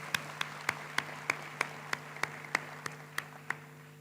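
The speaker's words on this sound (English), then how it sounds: "let's applaud again." Slow, evenly spaced single claps ring out one by one at a graduation ceremony, sharp and fairly quiet over a low steady hum, about a dozen hits with no talking.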